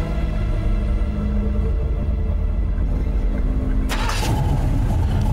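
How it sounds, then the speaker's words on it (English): A truck's ignition cranks and the engine catches near the end, after a steady low rumble; a loud, close burst of starter noise and engine roar follows, with no speech. "Then you hear some keys jingle, and the sound of an ignition starting."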